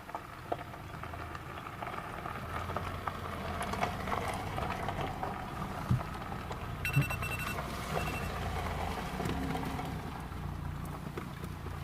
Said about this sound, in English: the rain is picking up just a little bit